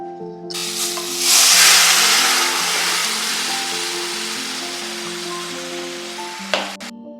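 Cooked dal, tomato and drumstick tipped into hot tempered spices in a pan set off a sudden loud sizzle that settles into a steady close hiss, ending with a brief clunk, while soft music plays underneath.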